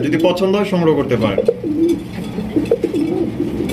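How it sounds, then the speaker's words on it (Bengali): A white king pigeon coos in low, throaty rolls, close by, while someone talks over it for much of the time. "এখানে রয়েছে খুবই সুন্দর একটা হোয়াইট কালারের কিং কবুতর"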